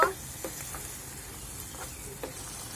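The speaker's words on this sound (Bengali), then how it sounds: "এর ভেতরে সরিষা বাটাটা দিয়ে দিচ্ছি। ভালো করে আমি কষিয়ে নেব।" Mustard paste fries in a pan for a Bengali sorshe potol, pointed gourd in mustard, giving a soft, steady sizzle with a few faint clicks and scrapes from stirring.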